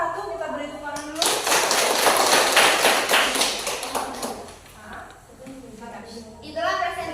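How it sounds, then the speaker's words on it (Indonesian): A class bursts into applause for a group's presentation at school: a dense burst of many hands clapping for several seconds, fading out, with a voice speaking before and after. "Terima kasih untuk kelompok 1, kita beri tepuk tangan dulu."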